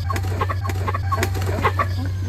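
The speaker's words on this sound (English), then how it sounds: "These are our American breast chickens." Several broiler chickens clucking and murmuring close by on a homestead, scattered soft calls over a steady low electrical hum.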